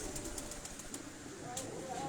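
A racing pigeon coos in low, soft murmurs on a rooftop loft, faint and continuous beneath ambient noise with a brief sharper sound near the end.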